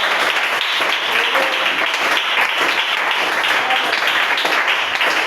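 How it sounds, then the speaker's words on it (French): A church congregation applauds steadily and densely for several seconds, a continuous wash of clapping with voices mixed in, loud and close throughout, at a sermon in Pointe-Noire. "C'est pour cela que nous acclamons le Seigneur."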